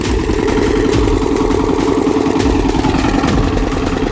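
A farm tiller's engine idles close by in a village field, a steady loud rumble with an even mechanical clatter running throughout, no voices over it.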